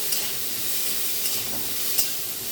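Cauliflower florets fry in hot oil for khichuri, a continuous close hiss and sizzle with a few faint stirring taps.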